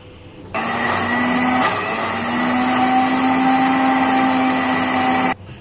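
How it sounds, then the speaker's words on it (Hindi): A kitchen blender grinds cashews and almonds into a paste for a mango dessert, a loud steady motor whine with a rising pitch that runs for about five seconds before cutting off abruptly. "तो इसे अब हम ग्राइंड करेंगे।"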